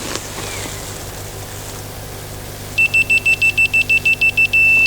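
A digital torque wrench, used while tightening a timing belt on a Scirocco 2.0 TDI 140 hp, emits a rapid series of about ten loud, evenly spaced electronic beeps ending in a long continuous tone, over a steady background hum.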